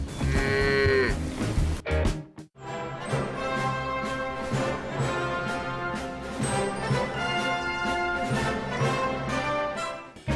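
Cattle moo loudly and repeatedly, with long tonal calls overlapping, one near call at the start followed by a short gap and then a sustained chorus of several animals.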